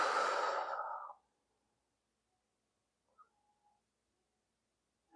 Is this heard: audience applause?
no